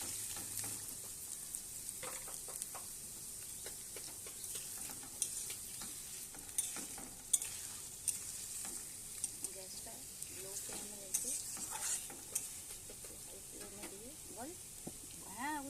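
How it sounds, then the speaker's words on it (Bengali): Onions being stirred in a frying pan on a gas stove, a soft ongoing sizzle broken by scraping stirs and small clinks, fairly faint, while people talk nearby. "এই যে পেঁয়াজ দিয়ে একটু নাড়াচাড়া হবে।"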